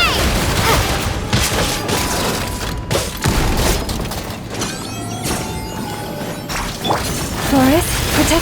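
Dense bomb blasts, shattering debris and mechanical clatter in a Genshin Impact cut scene, loud and continuous with repeated booming impacts, mixed with voices and action effects.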